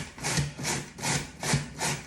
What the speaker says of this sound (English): Grate the potato,